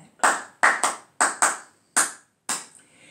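Children's music lesson hand clapping: six sharp, close claps in an uneven rhythmic pattern, with short gaps and quick pairs, loud and alone.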